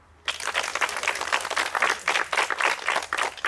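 Student adventurers at an outdoor challenge applaud themselves, a burst of group clapping that starts abruptly after a moment of quiet and continues in uneven waves.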